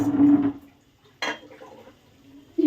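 Tomato pieces dropped into a hot frying pan while cooking chicken fry, with a couple of soft clattering thuds against the pan and a low sizzle between them.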